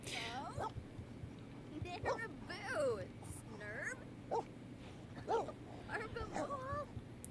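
A happy puppy named Opal gives a string of short yips and soft whimpers, with rising and falling whine-like cries scattered across the clip over a low background hum.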